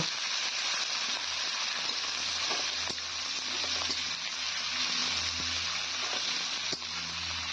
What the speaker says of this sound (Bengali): পেঁয়াজ রসুন আর হলো কাঁচা লঙ্কা কিনে নিয়েছিলাম সেগুলো একসঙ্গে দিয়ে দিলাম তেলে এবার পেঁয়াজটাকে কিছুক্ষণ ভেজে নেব